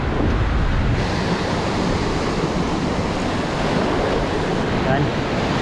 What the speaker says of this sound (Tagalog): dyan ang alon mga master